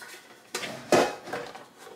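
A small silicone basket is set into an air fryer in a home kitchen, giving two soft, close clunks about half a second apart against a quiet background.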